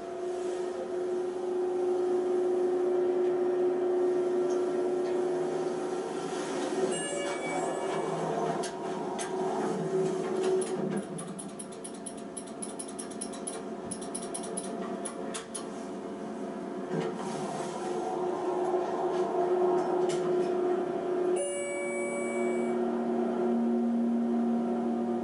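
A loud, steady ventilation fan runs inside a Lord and Taylor department store elevator with a carpeted interior, droning continuously with a strong hum throughout, joined by brief rattling and clicking noises partway through.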